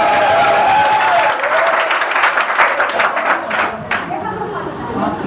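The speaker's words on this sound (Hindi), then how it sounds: "जोरदार तालियों के द्वारा आज के लिए भी एक बार हो जाए।" Audience applause at a Teachers' Day function, loud dense clapping from a seated crowd that thins and fades toward the end, with murmured chatter underneath.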